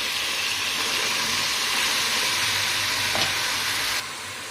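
Mixed vegetables for khichdi sizzle and fry in oil in a pan as they are stirred, a loud continuous hiss that holds steady, then drops off abruptly near the end.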